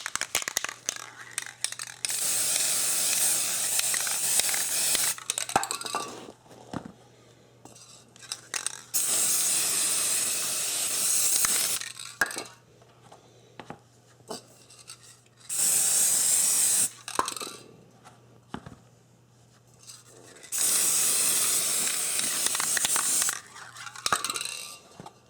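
Rust-Oleum NeverWet aerosol being sprayed as a final coat, heard as long hissing bursts of several seconds each, separated by short pauses with faint handling noises, close up.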